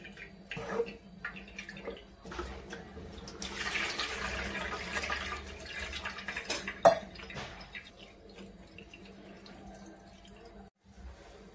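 Cold water is poured over freshly cooked pasta in a colander for a masala pasta, a broad steady splash and rush of water near the middle of the clip amid occasional drips and clinks of kitchenware, with no talk.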